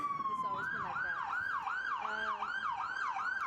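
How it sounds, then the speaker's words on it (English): An emergency vehicle siren in London wails steadily in a repeating rising-and-falling pattern, loud and continuous over low road noise. "Sorry about the siren."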